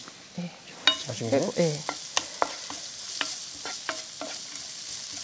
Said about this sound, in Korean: 이렇게 양파랑 마늘이랑 이렇게 볶았어요